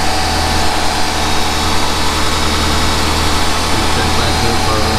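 A 2006 Nissan Altima engine idles steadily with a freshly replaced rear catalytic converter, giving a continuous, even low hum with no gaps or revving, close by and without talk.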